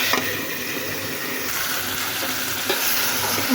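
Pumpkin curry being lightly stirred in a pan, a close, watery bubbling and hiss with soft scraping of the spoon through the thick mixture.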